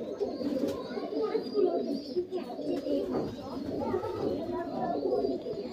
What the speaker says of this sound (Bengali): পুরানো পায়রা, অনেক বয়স হয়ে গেছে।